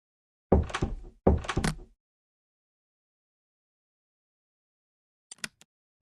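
A barrel door in a video game opens with two heavy wooden thunks in quick succession, each rattling briefly, then silence, followed by a faint short clatter near the end.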